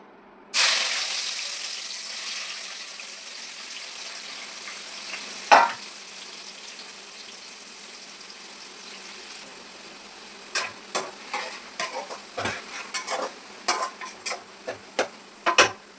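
Onions dropped into hot oil in a pan set off a sudden loud hiss that settles into a steady sizzle, later broken by a run of sharp clacks and taps from a utensil, near and with no voices.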